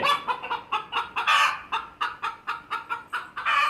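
A hen clucks in short, regular bursts, close by and fairly loud, with one brief louder squawk partway through.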